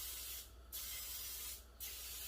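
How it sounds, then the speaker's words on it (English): Cooking spray hisses onto a frying pan in two short bursts, each about a quarter second, close and clear against a quiet background. "I am going to spray my pan."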